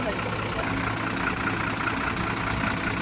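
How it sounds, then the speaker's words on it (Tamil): A vehicle engine idles steadily on a roadside in the Zanskar Valley, Ladakh, a constant mid-to-low droning hum running without a break at close range. "வண்டி வந்துருச்சுங்க."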